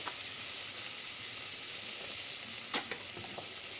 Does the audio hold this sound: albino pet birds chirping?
no